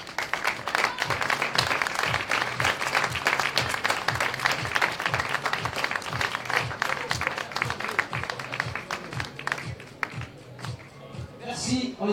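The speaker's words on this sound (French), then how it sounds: "On les applaudit, s'il vous plaît." Applause from the audience at an awards ceremony for the 2017 Ultimate Race, steady clapping lasting throughout with an announcer's voice over it, thinning slightly near the end.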